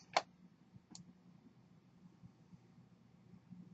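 Computer mouse clicks at a desk, one sharp close click followed by a fainter second one, then only quiet room noise.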